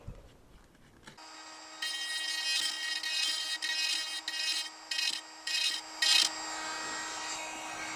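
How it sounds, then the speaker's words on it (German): A Dremel rotary tool sands the edge of a model F3B glider fuselage in a workshop. A steady high whine starts after a quiet moment, then close rasping bursts of grinding against the material come and go. No one talks. "schleife ganz leicht mit einem Dremel da noch mal entlang."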